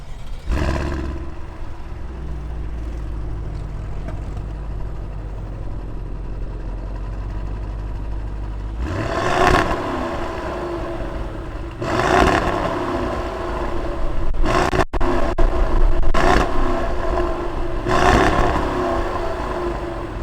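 The 2019 Cadillac CT6-V Blackwing engine idles with a low, steady rumble, then gives several sharp revs in quick succession, each swelling and falling back to idle, heard close with no voices.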